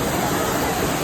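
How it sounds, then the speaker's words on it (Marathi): A small waterfall in Sanjay Gandhi National Park rushes with steady, dense broadband noise, close and continuous, with faint crowd chatter from people enjoying it underneath. "छोटासा धबधबा पाहू शकता तुम्ही"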